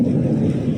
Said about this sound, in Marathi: विजेंचा गडगडाटासह हा पाऊस पडत आहे.